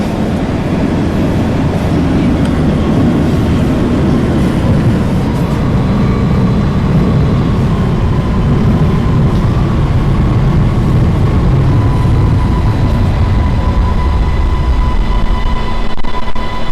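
An H subway train runs toward Idlewild Airport, its loud, steady rumble and rolling wheel noise continuous throughout, with a faint sustained hum above.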